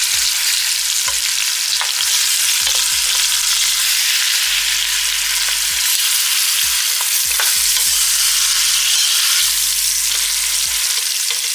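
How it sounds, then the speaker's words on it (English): Beef short ribs sear in a hot pot, a loud steady sizzle filling the whole clip, with repeated knocks and scrapes of a utensil shifting the meat. "We are just searing the outside, like I said."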